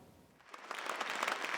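Applause and cheering greet Kim Chong-in, interim party leader, as he enters a party caucus meeting hall: faint, steady clapping that builds over a second and a half, with scattered sharp claps standing out.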